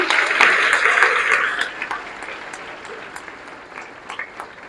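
A seated audience claps at a career-guidance program, steady applause that is loudest at first and then thins into scattered claps near the end.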